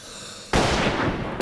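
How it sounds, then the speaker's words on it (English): A gunshot in the survival game Rust: a quiet moment breaks into a loud, sharp report with a long, echoing tail, and another crack follows just before the end. "That was a shot that came toward us."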